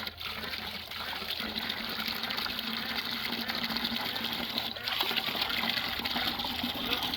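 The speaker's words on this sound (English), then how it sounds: "We have fresh water on tap now." Fresh water running from a tap fed from underground, filling for a dog at an outdoor splash pad: a loud, steady, close gushing rush that swells slightly near the end, with no talk.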